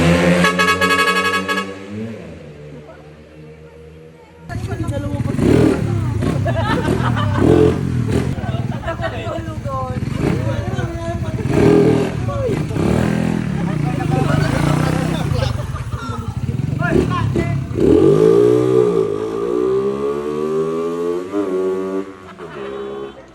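Riders test-rev endurance motorcycles at a gathering on a road tour in the Ilocos region, sharp rising and falling engine revs overlapping one after another, loud and close amid crowd chatter and talking.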